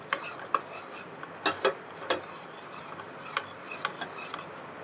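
A spoon scrapes and knocks in a pot of homemade glue that is stirred continuously as it cooks on a gas stove. The strokes are irregular and close, over a soft background hiss, and no one speaks.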